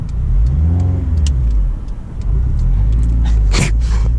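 A 2004 Honda Civic Si with a manual gearbox idles low and rough, nearly stalling as it pulls away and rumbles close and loud throughout.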